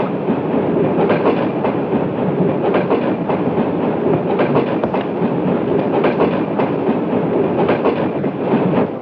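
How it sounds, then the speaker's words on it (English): Train running steadily on rails aboard the Trans-Siberian express in 1972 horror, a loud continuous rumble with rhythmic clickety-clack of wagon wheels throughout, close and unbroken. "Stop the train!"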